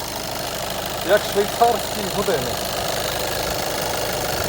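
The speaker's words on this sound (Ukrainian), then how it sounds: "Ось так працює двигун." A steady, low engine rumble from an idling 2014 Skoda Octavia A7 1.6 diesel, with a few brief spoken words over it near the middle.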